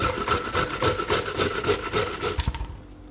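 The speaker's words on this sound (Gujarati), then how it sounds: "તો આદું આપણે આમાં છીણી લીધું છે." Fresh ginger root rubbed hard against a metal grater for bhajiya, a steady run of rapid rasping strokes in a rhythmic back-and-forth that trails off near the end, close and fairly loud with no talk.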